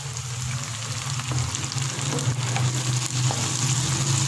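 Chopped tomatoes and green chilies sizzle steadily in a hot pan, a close, even crackle of frying with faint stirring and no talking.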